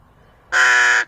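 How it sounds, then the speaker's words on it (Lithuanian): A crow gives a single loud, harsh caw lasting about half a second. The call is close and comes after a quiet moment, with no talk. "Labas rytas, varna sako."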